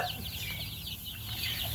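Baby chicks peck at their feed and scratch around beneath a heat lamp at night, their soft clucks and high peeps close by and near-continuous over a steady background hum.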